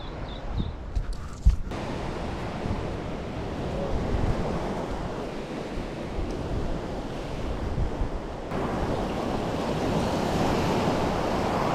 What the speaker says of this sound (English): The waves are looking pretty awful, but it's nice to be in the water regardless.